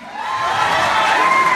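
A comedy show audience at the back of the hall cheering and whooping, a loud, dense crowd roar that swells quickly and holds steady.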